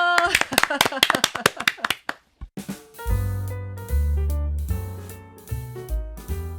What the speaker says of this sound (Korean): 박수 치면서 인사 나눌까요?